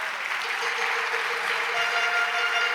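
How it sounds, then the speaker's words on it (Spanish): Church congregation applauds, a continuous wash of clapping with faint voices mixed in throughout. "te atreves a darle un aplauso al Señor"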